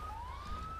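A police car siren wails in the video game GTA V, one rising electronic tone heard faintly and briefly over a low background rumble.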